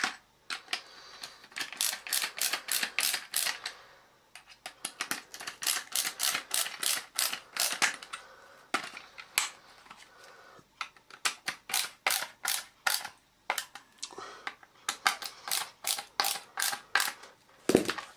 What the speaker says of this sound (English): put the 2 long screws into the back to hold it all into place